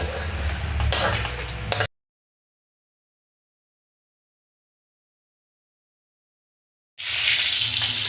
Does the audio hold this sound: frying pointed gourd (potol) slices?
yes